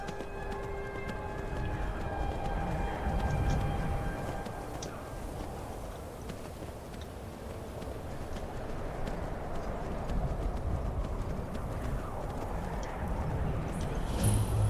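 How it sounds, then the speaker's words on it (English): Rapid, steady hoofbeats of a galloping horse in Skyrim drum on without pause, loud and close, with a faint electronic hum from the game underneath. "Time to use our magical Skyrim horse."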